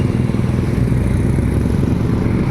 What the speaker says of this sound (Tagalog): Yan, daming motor, oh